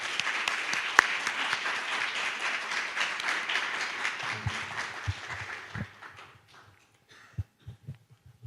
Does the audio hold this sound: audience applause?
yes